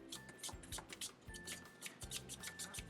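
A very dry brush scrubs titanium white paint into a stencil, giving faint, rapid rhythmic scratching strokes close up, with no voice.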